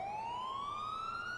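A siren from an ambulance in GTA 4 rises in a smooth, steady electronic wail, fairly faint and heard alone.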